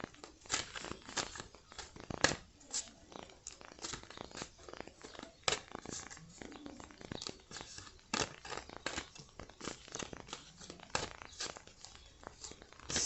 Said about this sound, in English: I've already pre-shuffled them, but I'm going to shuffle them some more.